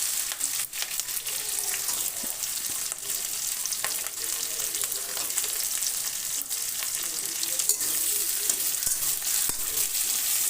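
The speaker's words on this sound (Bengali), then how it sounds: "দিয়ে পেঁয়াজের সাথে ক্যাপসিকামটা ভেজে নেব" Capsicum frying with onions in a pan, giving a steady, close sizzle with occasional stirring scrapes throughout, without any talking.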